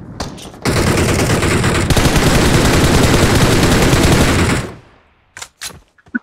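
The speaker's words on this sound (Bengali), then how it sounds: "এই ফায়ার দিছে শোন ভাই" Sustained automatic gunfire from PUBG Mobile, a dense, loud burst lasting several seconds before cutting off, followed by a few isolated single shots after a short gap.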